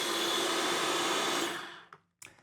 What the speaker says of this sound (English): Lid on, blend till smooth.